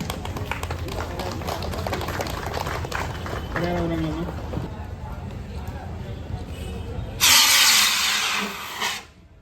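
A fire extinguisher discharges chemical powder during a fire safety demonstration, a loud rushing hiss bursting out for about two seconds after people talk over background noise.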